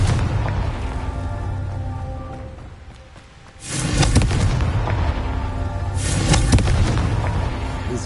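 A Confringo spell explosion in the video game Hogwarts Legacy, heard as two loud booming blasts a few seconds apart, each with a rumbling crackling tail over a steady background hum.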